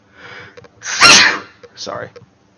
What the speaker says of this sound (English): Yeah, that was a very womanly sneeze.